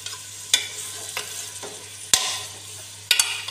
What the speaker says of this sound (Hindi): पहले हमें अच्छे से तेल में फोड़ना है 2-3 मिनट के लिए या फिर 4-5 मिनट के लिए।